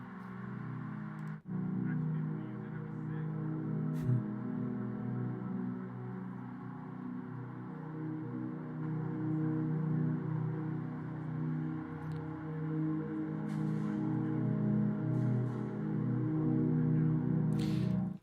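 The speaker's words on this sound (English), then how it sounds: "we probably went out field recording one day in the train stations" Steady, dense low drone of a train station field recording, with passing trains as a continuous rumbling bed and a few faint clicks and hisses on top, no talk.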